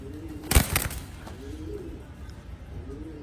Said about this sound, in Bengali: খুবই সুন্দর একটা মন জড়ানোর মতন কবুতর।